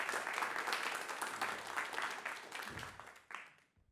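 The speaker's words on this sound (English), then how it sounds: "a round of applause for Dennis, please" Conference audience at a game programming talk applauding a game architect and artist, a steady wash of clapping from a crowd that tapers off near the end, with a few scattered claps at the close.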